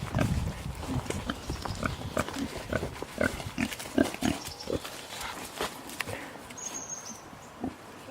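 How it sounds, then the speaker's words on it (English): Pigs out on pasture grunt and snuffle repeatedly, a busy stream of close, soft oinks and rooting noises continuing throughout without speech. "The pigs were out on pasture yesterday for the first time for a few hours"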